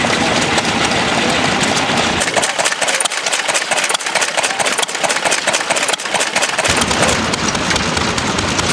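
1924 Lister Junior single-flywheel stationary engine runs steadily nearby, a dense chugging mechanical clatter with rapid regular beats and no talking.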